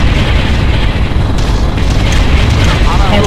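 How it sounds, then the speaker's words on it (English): An enemy Hoverdyne blows up in the real-time strategy game Ground Control, a loud, dense explosive roar and rumble filling the whole span, with radio-style unit voices speaking over it. "Enemy Hoverdyne destroyed."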